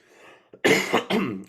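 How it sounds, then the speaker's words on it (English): A person coughs twice, close and sharp, after a short quiet pause with a faint breath. "Pardon me with the cough."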